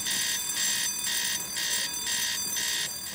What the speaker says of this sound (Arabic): ايه على طول كده جرس انذار